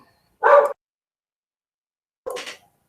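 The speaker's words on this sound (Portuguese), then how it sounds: "esses cachorros, eles começam a latir justamente nesse momento que eu vou trabalhar" Two separate dog barks sound a couple of seconds apart, each short and fairly close, with silence between them and the start of another at the very end.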